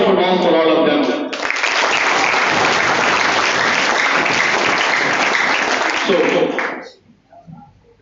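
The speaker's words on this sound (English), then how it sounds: "So I would like from all of you to have a big round of applause for all of them." A management school audience applauds the speakers with a dense, loud burst of clapping lasting several seconds, which fades out abruptly at the end, with voices briefly heard at the start.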